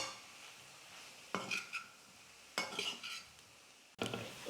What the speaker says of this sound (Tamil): தேங்காய் துருவல் சேர்த்து நல்லா கலந்து கொடுத்தாச்சு